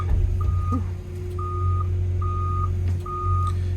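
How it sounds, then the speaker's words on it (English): An excavator's swing motion alarm beeps four times at an even pace over the low rumble of its idling engine. "Does the motion swing alarm work?"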